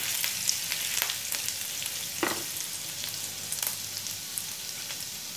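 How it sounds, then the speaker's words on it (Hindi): Ginger and green chillies frying in hot oil give a steady close sizzle, with intermittent stirring scrapes and small pops throughout, and no talking. "अदरक और हरी मिर्ची को भी ऐड कर दिया। एक मिनट के लिए फ्राई कर लूंगी।"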